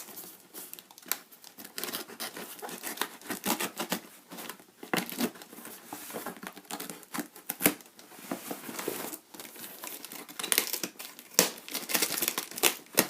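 A fan parcel of GameCube parts is opened by hand, its packaging crinkling and tearing in dense, irregular bursts of close rustling that run throughout with no talk.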